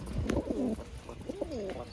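A cage crowded with Kalshila pigeons coos loudly and close, overlapping throaty calls rolling in quick succession with a short dip in the middle.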